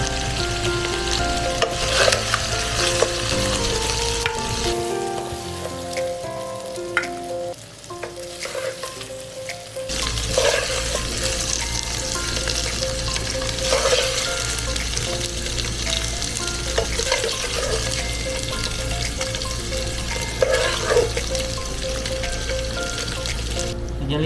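Chicken frying in a pan and being stirred, a steady loud sizzle with scraping stir strokes running throughout, briefly dipping before resuming at full strength.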